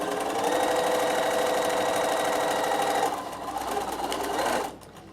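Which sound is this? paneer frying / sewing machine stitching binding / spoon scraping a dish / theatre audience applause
sewing machine stitching binding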